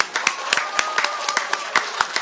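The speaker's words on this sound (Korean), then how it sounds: "박수 소리가 넘쳐서 좋습니다." An audience at a Korean political party event claps in scattered, uneven bursts, a modest applause of sharp individual hand claps heard close by.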